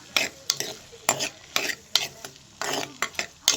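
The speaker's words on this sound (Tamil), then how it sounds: "அடுத்து உருளைக்கிழங்கு அடுத்து நல்லா கொஞ்சம் வதக்கி விடணும்" Potatoes and green chillies being stirred and sautéed in a hot pan, with repeated scraping stir strokes over a soft, steady sizzle, close by and without talk.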